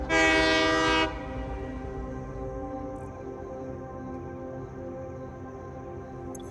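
A locomotive in the video game Satisfactory sounds a loud, sustained horn for about a second, then its engine keeps up a steady low rumble with no talking.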